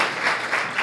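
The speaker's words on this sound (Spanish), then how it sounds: "muchas gracias a los tres, un fuerte aplauso" Audience applause at the close of a panel talk on attracting investors in Ecuador, a brief steady burst of clapping with no voices over it.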